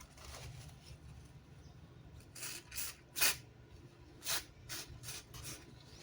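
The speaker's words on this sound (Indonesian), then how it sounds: "kita bisa semprot pakai cairan pembersih" Cleaning fluid is sprayed in several short, sharp hissing bursts onto the rusty bearing of an electric fan, with quiet gaps between the sprays.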